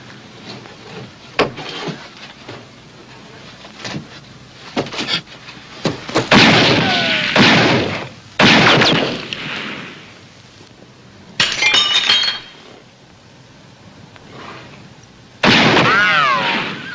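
Gunfire in a western film, several loud sharp shots and bursts with ringing, clattering debris between quieter gaps, no talk.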